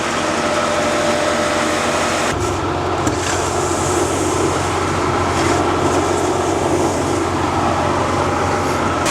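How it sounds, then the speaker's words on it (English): A feed grinder grinding oats poured from a hopper wagon, a steady loud mechanical roar that thickens and deepens partway through as the grain feeds in, continuous throughout with no talk. "Filling the grinder with oats from the hopper wagon"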